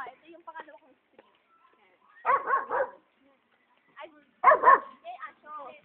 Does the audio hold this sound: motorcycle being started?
no